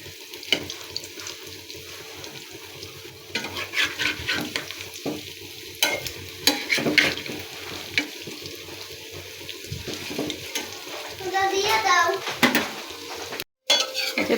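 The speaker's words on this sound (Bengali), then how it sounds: "এক পাশ হয়ে গিয়েছে এবার অপর পাশ উল্টে দিচ্ছি" Palm fruit fritters (tal bora) fry in oil with a moderate sizzle, joined by scraping, stirring and clattering as they are turned over, with a short dropout near the end.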